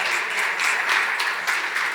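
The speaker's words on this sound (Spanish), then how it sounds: "Un aplauso nuevamente en lo que bajan." Audience applause at a science-and-art talk as the guests leave the stage: a steady, dense wash of many hands clapping, fairly loud and continuous, with no speech over it.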